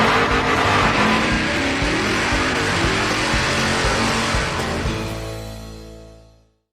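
Race cars doing burnouts at a drag race start roar loudly and steadily for several seconds, a dense wall of engine noise with tire squeal, before cutting off and fading out abruptly.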